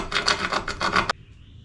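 A square rasp scrapes grout from between kitchen floor tiles in a quick run of rough, rhythmic strokes, close and fairly loud, then stops abruptly into near silence.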